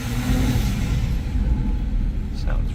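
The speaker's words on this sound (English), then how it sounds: "Coming up by the wall here so you can hear that intake kind of echoing." A Jeep Wrangler Unlimited Rubicon's engine intake rumbles steadily and echoes off a nearby wall while driving at about 50, a continuous low drone with road noise.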